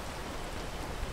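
Steady outdoor rain falls as a dense, even hiss with no distinct drops standing out, fairly soft and continuous throughout.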